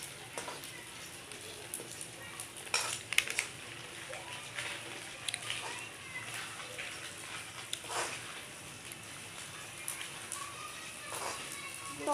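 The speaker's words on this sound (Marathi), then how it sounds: "मी आता डिंक चांगला फ्राय करून घेते." Edible gum (dink) frying in ghee in a pan, a faint, steady crackle and sizzle with occasional louder pops and scrapes, quiet throughout.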